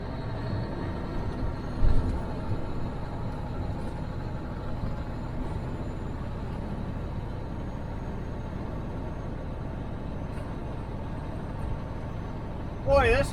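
A Peterbilt 359 semi truck with a classic mechanical setup pulls uphill under acceleration, its engine a loud continuous low roar from inside the cab, with a couple of brief knocks and a rattle near the end.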